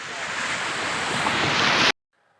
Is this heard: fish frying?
no